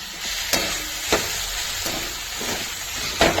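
Fenugreek pithla mixture stirred with salt in a pan, a steady close sizzle running throughout with a few sharp scraping strokes of the spoon at irregular intervals.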